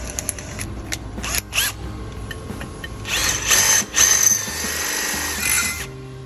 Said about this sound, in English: Stick that in the drill.